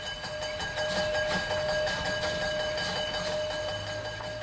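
A steam train on a former Ruhr-Lippe railway line between Hamm and Soest rumbles steadily into a track section, a sustained whistle-like tone riding over the rolling noise at moderate, even loudness.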